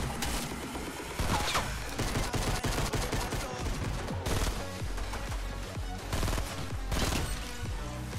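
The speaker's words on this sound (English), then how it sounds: "Two assault rifle kills." Loud, dense assault rifle fire in Fortnite: Battle Royale, rapid continuous bursts with short gaps, layered over busy game sounds throughout.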